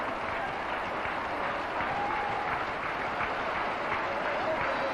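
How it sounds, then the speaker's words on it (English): A cricket crowd at a 1991 Sharjah India vs Pakistan match applauds the left-handed Amir Sohail as he walks off after 91, a dense, steady roar of clapping and cheering that holds at an even level throughout. "the crowd standing up to show its appreciation"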